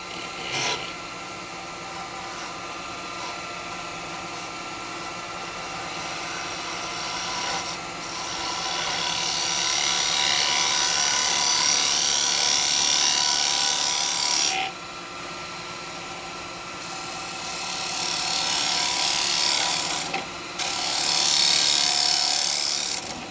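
A carbide chisel hollowing and undercutting a wooden bowl on a lathe: a continuous loud scraping rasp that swells and fades in long cuts, with brief pauses between passes and shavings piling up.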